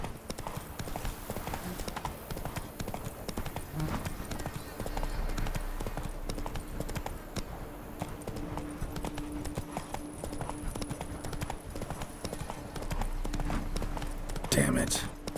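Trotting horse hooves in The Witcher 3, a steady, continuous clip-clop rhythm heard up close across the whole stretch alongside game ambience.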